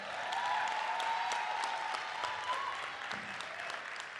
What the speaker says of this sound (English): Now we need to give them another round of applause.